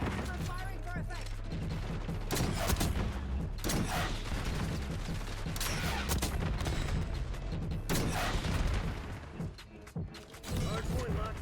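An artillery strike killstreak barrage in Black Ops 6 multiplayer brings repeated gunfire and explosive booms in dense, rolling bursts under game sounds, with voice chatter mixed in.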